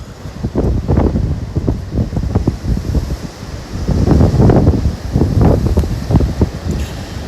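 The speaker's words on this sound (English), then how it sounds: "these are pretty strong winds, but these are more like 40, 50 mile an hour gusts" Strong wind gusts of about 40 to 50 miles per hour batter the microphone during an Oswego windstorm, with loud roaring bursts that surge and fade in an uneven rhythm.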